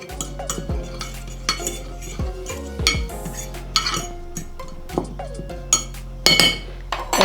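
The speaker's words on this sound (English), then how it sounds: "Mix all the seasonings together." Spices, mixed herbs and lemon-herb seasoning are stirred together in a bowl for a seafood boil, with close, irregular clinks and scrapes of a utensil against the dish.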